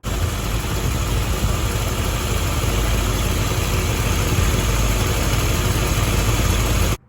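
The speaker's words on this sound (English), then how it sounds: "let's start the car and see if it's straight" A Chevy 350 V8 in a Corvette C3 idles steadily at close range, an even engine rumble that holds for several seconds before cutting off abruptly.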